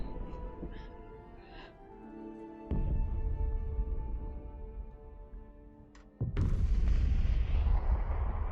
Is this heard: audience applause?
no